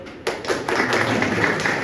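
Clapping from people gathered at a birthday celebration for a TB patient held by a health worker, a short burst of claps that swells quickly into steady applause.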